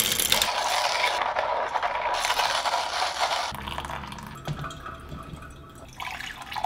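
A Comandante C40 hand coffee grinder crunching and scraping coffee beans, a steady gritty mechanical rasp close up that runs continuously and eases off partway through.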